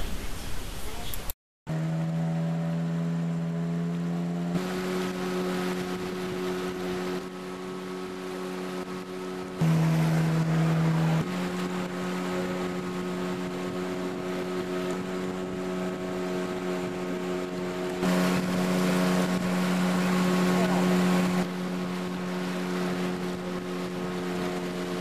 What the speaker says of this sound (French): nous partons avec la prochaine pirogue à moteur sur le Sangay Melinau.